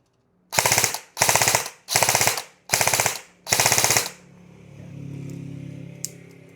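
Airsoft gun on a flat trigger fires five loud, close bursts in a row, each a rapid rattle of shots separated by short pauses, followed by a low mechanical hum.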